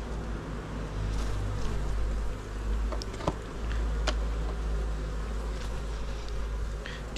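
Honeybees buzzing at Apidea mating boxes, a steady, dense hum that carries through the whole stretch, with a few sharper insect passes flicking close by over the low drone.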